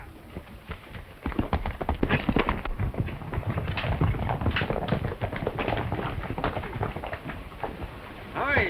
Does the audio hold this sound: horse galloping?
yes